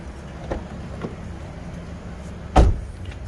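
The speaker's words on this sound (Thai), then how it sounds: "ปิดประตูนี่เพาะๆแน่นๆ ทุกบานนะครับผม" The door of a 2003 Honda CR-V 2.0 i-VTEC 4WD seven-seater is shut firmly: a single solid, close thud, preceded by faint softer knocks against a quiet background.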